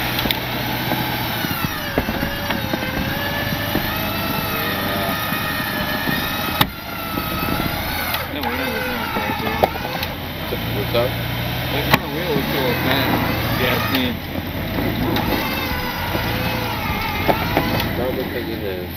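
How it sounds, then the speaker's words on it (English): Car engine revving hard with a single tire spinning in place, a steady loud drone through the whole stretch with people talking over it. "Just spinning that one tire."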